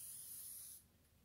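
Chicken pieces coated in flour for crispy fried chicken get a short, close hiss of spray that cuts off abruptly, with no talking.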